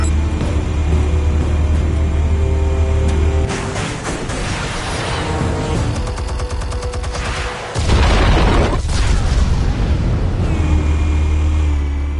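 Loud detonations from explosives in a Batman video game, heavy booming blasts with a rumbling low end and sharp crackling bursts that shift in intensity, then a big renewed roar near the end, with no talking.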